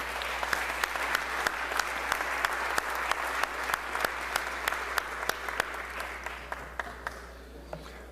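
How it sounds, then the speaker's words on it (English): Legislators on the Mississippi House floor applaud in a steady, moderately distant round of clapping with sharp individual claps standing out, continuing for several seconds before thinning out near the end. "So let's all give her a big round of applause."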